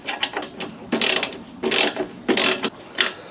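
Ratchet wrench tightening bolts on a track car, heard as several close, loud bursts of rapid clicking separated by short pauses.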